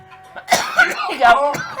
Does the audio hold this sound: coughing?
yes